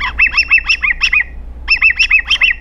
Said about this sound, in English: The birds are chirping outside.